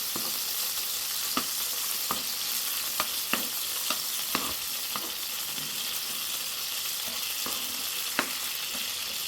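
Minced garlic sizzles in melted butter in a pan, a constant soft hiss with occasional crisp pops and stirring clicks scattered throughout, close and moderately quiet, with no voices.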